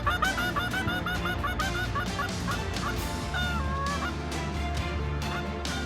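Canada geese honk loudly and repeatedly over a wetland at the Franval outfitter in Québec, overlapping nasal calls from a sizable flock, some close and some farther off, continuous throughout.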